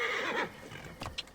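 Horse in Assassin's Creed Origins gives a loud, close whinny that falls away after a moment, followed by a couple of soft hoof clops.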